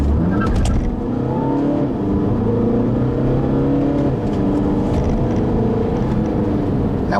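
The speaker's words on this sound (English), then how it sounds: "What you did hear earlier was a little bit of wheel hop and some spinning of the tires" A 2012 Volkswagen Passat TDI diesel accelerating hard, its engine droning loud and close through rising revs with uneven pulsing that fits wheel hop and tire spin.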